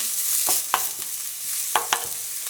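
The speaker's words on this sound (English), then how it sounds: "Then you're going to add your garlic and just saute that for another minute." Garlic sautés in olive oil in a pot with a constant close hiss, punctuated by several quick scraping strokes of a spoon stirring through it.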